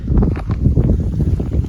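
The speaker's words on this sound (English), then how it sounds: "sorry about the wind." Blustery outdoor wind buffets the microphone beside a French farmhouse garden, a low rumbling roar that swells and gusts continuously for the whole stretch with no speech.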